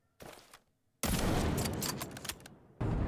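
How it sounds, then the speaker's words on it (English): An L115 sniper rifle fired on a firing range in the video game XDefiant: a sharp shot at the start, then a louder burst of gunfire with a long, dense tail, then a third loud report at the end. "Listen to what a normal L115 shot in the firing range sounds like."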